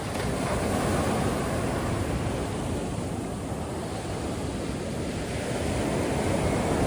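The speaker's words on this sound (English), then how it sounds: "these are sneaky waves, Liam." Ocean waves wash steadily onto a beach at Bang Tao and Laguna in Phuket, Thailand, making a continuous broad roar of surf mixed with wind buffeting the microphone.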